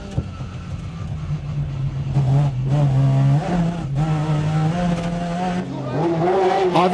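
A rally Ford Escort fitted with a Mazda engine races on a stage road, its engine loud and close, revving hard and shifting pitch through gear changes, with what may be tire noise. A voice talks over it.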